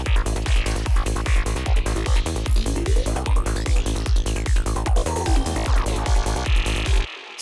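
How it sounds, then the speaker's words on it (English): A psytrance drum groove in full mix: a punchy, fast four-on-the-floor kick with a rolling bassline, bright hats and a sweeping rising and falling synth effect, loud and driving before stopping suddenly. "I have these drums in this track."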